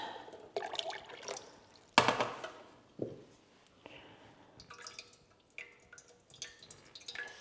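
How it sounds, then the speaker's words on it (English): Warm water, 300 grams of it, is poured into a bread machine pan, making soft, close splashes and drips in short uneven bursts in a quiet kitchen. "300 grams of warm water"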